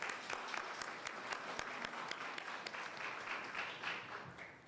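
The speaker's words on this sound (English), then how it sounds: "Let's give them a round of applause and thank them." A crowd applauds steadily after a New York City mayoral coronavirus briefing, a dense, even patter of clapping hands that holds for several seconds at moderate level.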